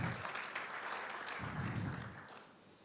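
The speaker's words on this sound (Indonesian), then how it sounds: "berikan tepuk tangan" Church congregation applauding together during an Indonesian sermon, a dense, steady burst of clapping that swells and then tapers off, without voices.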